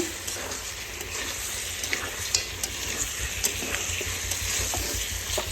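Skin-on chicken frying in hot oil in a home kitchen, a steady dense sizzle with small crackles and pops throughout, no talking.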